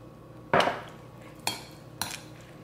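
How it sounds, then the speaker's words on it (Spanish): A spoon stirs grated carrot and beetroot salad with onion in a bowl, giving three short scraping clinks, the first strongest, with quiet pauses between. "Vamos a revolver nuestra zanahoria con nuestra remolacha."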